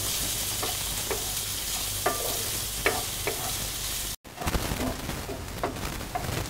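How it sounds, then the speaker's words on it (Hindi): Finely chopped onions with cumin frying in a pan, a steady dense sizzle with occasional soft scrapes of a spoon, briefly cut off by a momentary gap before the frying resumes. "प्याज को अच्छी तरह से हमें सुनहरा भून लेना है"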